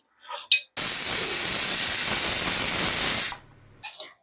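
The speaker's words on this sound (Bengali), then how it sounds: "কুকারে ঢাকা লাগাবো আর একটা সেটে দিয়ে নেব" Pressure cooker on the stove venting a loud, steady hiss of steam for about three seconds while mutton ghugni cooks, with brief clinks and knocks before and after the blast.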